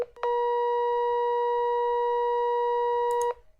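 A steady half-rectified sine tone from a Falstad circuit simulator holds for about three seconds, clean and even from start to finish, with nothing else audible alongside it.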